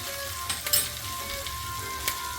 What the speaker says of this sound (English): So now we're just going to baste our steaks.